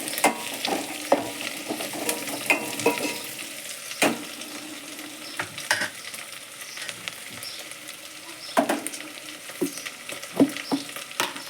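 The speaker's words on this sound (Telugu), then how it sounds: "అల్లం వెల్లుల్లి పేస్ట్, పచ్చివాసన పోయేంత వరకు ఆయిల్లో మంచిగా ఫ్రై" Ginger garlic paste frying in oil for a potato kurma, giving a soft continuous sizzle with repeated spoon scrapes and light taps against the pan, close up and with no one speaking.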